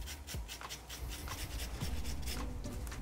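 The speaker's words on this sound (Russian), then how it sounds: "Натереть на мелкой терке." Fresh ginger is rubbed on a fine grater in a home kitchen, giving soft, quick rasping strokes repeated in a steady rhythm, quiet and close.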